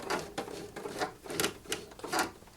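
A Singer Professional 5 serger gives several short start-and-stop stitching bursts in an uneven rhythm, each a brief mechanical whir, heard close with no talking.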